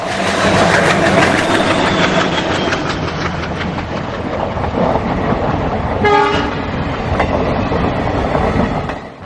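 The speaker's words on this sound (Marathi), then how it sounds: "आता ट्रेन सुटण्याची वेळ झाली" A departing train rumbles and clatters along the tracks, with a brief horn toot partway through.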